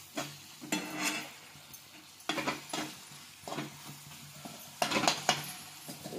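Chole masala cooking in a pot is stirred with a spoon, giving quiet, irregular bursts of scraping and light clinks against the pot over a soft background.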